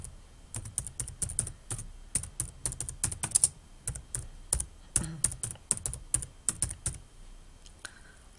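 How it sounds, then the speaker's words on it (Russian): A search query being typed on a computer keyboard: a quick, irregular run of close, crisp key clicks with short pauses, no voices. "В поисковой строке набираем поисковое выражение."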